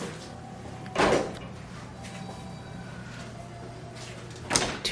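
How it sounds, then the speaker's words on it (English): Sliding door to the sink area of a deluxe studio room at Disney's Grand Floridian Resort, two brief rolling, scraping bursts a few seconds apart over a low room hum. "With the sliding door here, separate the sink area."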